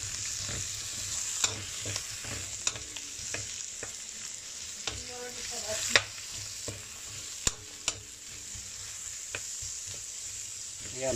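Onion and garlic sauté in a hot pan with a soft, steady sizzle. Scattered sharp clicks of a utensil stirring and scraping the pan break through it, and no one speaks.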